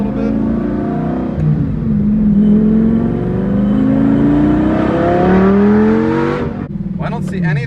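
A Lamborghini engine revs hard and climbs steadily in pitch, loud and close, then cuts off abruptly, with people talking over the roar.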